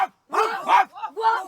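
Human voices imitate dog barking, as adult children in the film Dogtooth are taught by their father to bark to chase cats from the garden; four short, loud, close bark-like shouts follow in quick succession.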